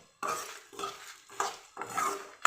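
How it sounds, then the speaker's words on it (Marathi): Spice masala dry-roasted in a pan, heard close: four rhythmic scraping strokes of a spoon against the metal, each a short, gritty rasp. "अशा पद्धतीने मी हा मसाला भाजून घेत आहे"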